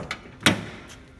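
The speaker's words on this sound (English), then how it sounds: "I have to crawl through it and open that door apparently" The car door of a Plymouth Cuda is opened with a single sharp latch click and thump, close and brief, followed by faint rustling and no talk.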